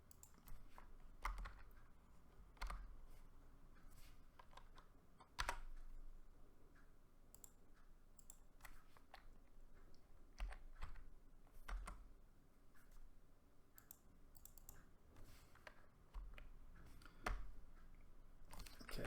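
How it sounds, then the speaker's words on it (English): Sparse, quiet typing on a computer keyboard: scattered individual key clicks and short bursts in an irregular rhythm, close by, with no talking. "Okay, I'll type it in myself."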